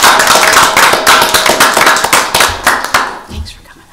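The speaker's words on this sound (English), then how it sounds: "I think a round of applause is in order." A county board of commissioners' meeting room breaks into a round of applause, with dense, loud clapping from a small crowd that thins out toward the end.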